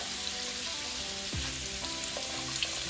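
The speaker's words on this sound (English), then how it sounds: "I will now go ahead and add my coconut milk" Coconut milk poured into a pot of cooked peas for Jamaican rice and peas, a soft steady sizzling hiss with faint bubbling and a low gurgle partway through, heard close and alone.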